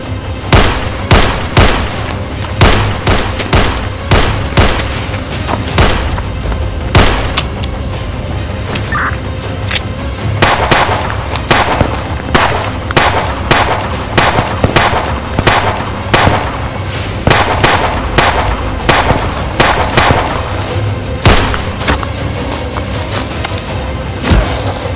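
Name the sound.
gunfire in a shootout in a film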